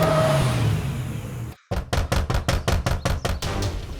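Rapid, forceful knocking pounds on a door, about ten loud close blows in a quick irregular run after a brief pause, following noisy background sound.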